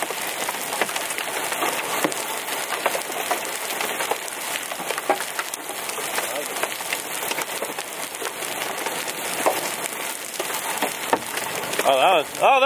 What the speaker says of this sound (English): This is the best hail I've seen like all year.